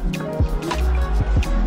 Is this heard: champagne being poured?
yes